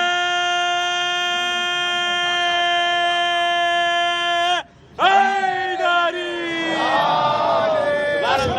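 A crowd at a Jashn-e-Moulood-e-Kaaba religious celebration in Versova, Mumbai shouts in unison in loud sustained bursts, a brief pause midway, then voices surge again amid amplified sound.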